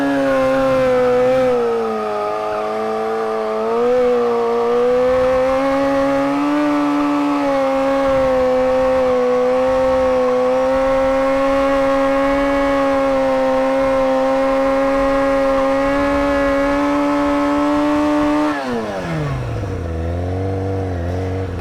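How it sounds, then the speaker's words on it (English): A car doing a rolling burnout on old tires, the engine held at a loud, steady high rev for many seconds before dropping sharply back toward idle near the end. "Try to go for a little burnout here."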